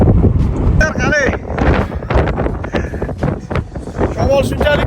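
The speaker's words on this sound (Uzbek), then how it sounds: "Shamol shunchalik kuchli bo'lyaptiki, endi qaranglar manzara." Strong wind at Ayakagitma lake in Bukhara's Shofirkon district roars steadily into the microphone as loud, continuous buffeting rumble, with someone talking over it throughout.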